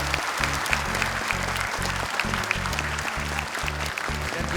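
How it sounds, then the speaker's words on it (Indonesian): Audience applause for a contestant on the Hafiz Indonesia 2019 studio stage, a steady wash of clapping held throughout under low, rhythmic studio music. "Tepuk tangan untuk Anissa."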